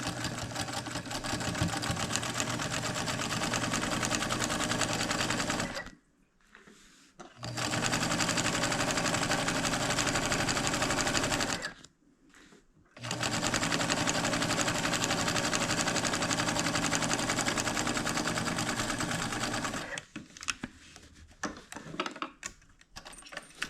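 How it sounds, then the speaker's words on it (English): A home sewing machine with a size 11 needle and neutral thread runs a quarter-inch seam on denim for a lined coloring bag, a steady close mechanical whir in three long bursts separated by brief pauses. "I'm going to take it over to the sewing machine and sew a 1/4 inch seam"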